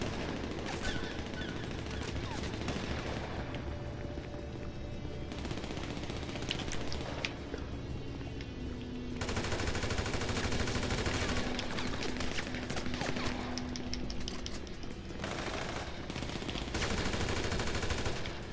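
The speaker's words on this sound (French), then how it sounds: "Je fais exprès de tirer dans l'avion de chasse, hein, c'est pour les intimider un petit peu" Sustained automatic gunfire in GTA, aimed at a fighter jet, rattles in long dense bursts with brief pauses under steady engine noise.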